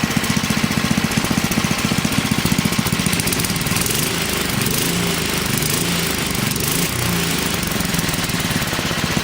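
Small engine after carburetor float and tuning work, choke fully off, runs at full governor speed. A loud, steady, rapid lawn-mower-like drone with a rhythmic chugging pulse continues throughout, with no talking.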